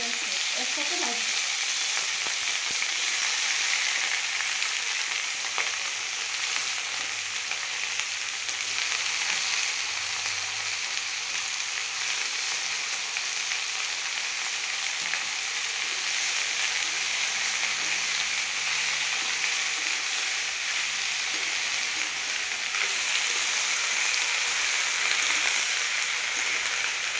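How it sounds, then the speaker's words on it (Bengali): Eggplant and onion frying together in a home cooking pan, a steady, even sizzle with occasional stirring scrapes, close and continuous throughout with no talk. "আমি বেগুন পেঁয়াজ একসাথে ভাজবো।"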